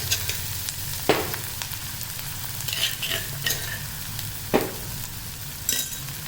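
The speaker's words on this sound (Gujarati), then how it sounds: "ત્યારબાદ આ બનાવેલી પેસ્ટ એડ કરીશું અને ગેસની ફ્લેમ એકદમ ધીમી રાખીશું." Coriander and chili paste fries on a low flame in hot oil with asafoetida, a soft, steady sizzle broken by occasional scrapes and light clinks of a stirring spoon.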